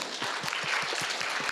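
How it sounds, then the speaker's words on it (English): A crowd at a literature festival applauds steadily, a dense wash of many hands clapping at moderate volume, heard from within the audience. "A round of applause."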